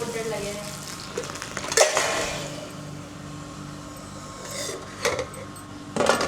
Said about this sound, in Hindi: और अब इसे तड़का लगाने की तैयारी करते हैं।